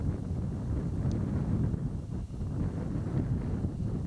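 Steady wind buffets the microphone on a dull, darkening coastal walk at Swanage Bay, a continuous low rumbling roar with no pauses and no voices.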